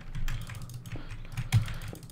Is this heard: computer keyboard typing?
yes